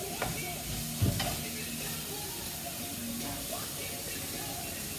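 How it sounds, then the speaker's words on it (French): Leeks fry in a little oil in a pan, a steady sizzle with a spoon stirring and scraping against the metal, close up, while a person speaks over the cooking. "Je mets du poireau. Comme on a mis très peu d'huile, il faut toujours tourner pour pas que ça brûle."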